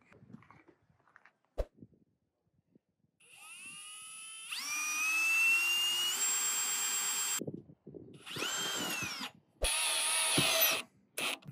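A power tool drives screws into fairly hard steel parts outdoors in the cold, with several sustained whining bursts rising in pitch, separated by short pauses, clicks and knocks, close and loud.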